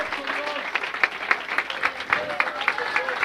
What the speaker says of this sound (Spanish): Quiere darle aplausos a Él